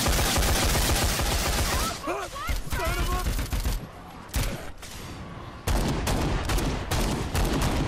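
Rapid bursts of gunfire from Dead Rising 4, loud and dense, crackle on and off across the scene, broken by a brief quieter gap, with game noise and a voice underneath.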